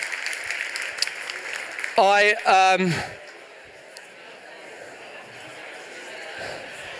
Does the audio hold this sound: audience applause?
yes